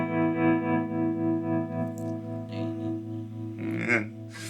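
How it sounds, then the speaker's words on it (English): Electric guitar through a Chase Bliss Audio Gravitas pedal set to dual tremolo, sustained chords pulsing with two overlapping tremolo rates, brighter plucked notes entering near the end, played alone without talk. "So there's actually 2 tremolos happening at the same time."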